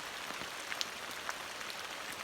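Heavy, prolonged rain falling on a camper van, a faint, even hiss with scattered soft drips and taps on top.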